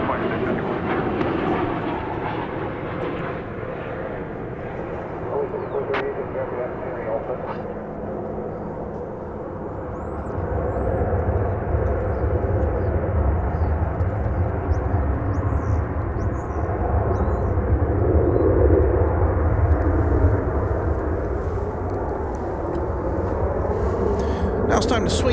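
An airliner arriving from Puerto Vallarta at DFW Airport makes a low jet rumble that builds partway through and stays moderately loud, with voices and some background chatter over it.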